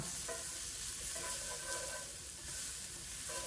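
Garlic sizzles in a hot pan, a soft, steady crackling hiss lasting throughout, fairly quiet and close, with faint stirring sounds and no voices.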